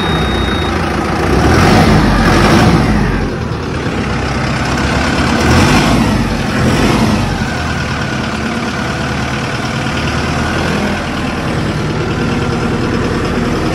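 A tractor engine idles loud and close, with a steady low rumble that swells slightly for a moment and then settles back to an even running drone.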